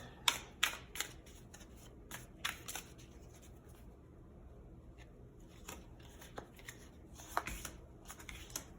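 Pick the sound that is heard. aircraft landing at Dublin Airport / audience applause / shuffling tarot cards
shuffling tarot cards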